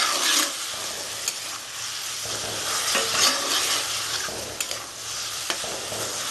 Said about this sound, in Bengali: এটা অনেকক্ষণ একটু বেশিক্ষণ ধরে ভাজতে হবে মানে নরম হওয়ার জন্য টমেটো থেকে জল বের হবে